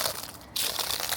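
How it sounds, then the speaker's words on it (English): A crunchy pine cone crackles and crushes underfoot in a short, close burst of dry crunching on a wooded trail at Bastrop and Buescher State Park in Texas. "there's just nothing more satisfying than stepping on a crunchy pine"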